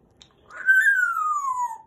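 A single long whistle from an African grey parrot glides slowly downward in pitch, clear and close, starting after a brief quiet moment.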